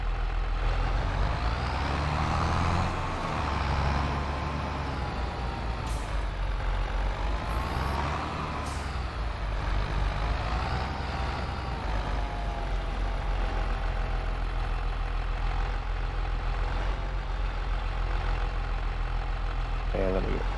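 In Farming Simulator 25, a tractor engine idles in a steady, loud, continuous rumbling drone that holds for about twenty seconds.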